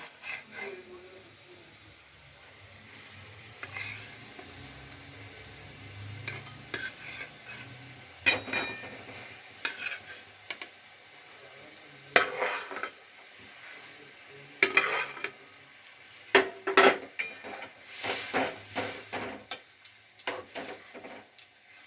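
Eggplants dropped into a boiling curry and stirred, with quiet bubbling under scattered clinks and scrapes of a spoon against the pot, and a voice speaking at times.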